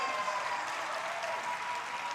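Steady applause from an indoor crowd at a men's singles championship match, a dense continuous patter of clapping held at an even level across the short span, with no voices rising above it.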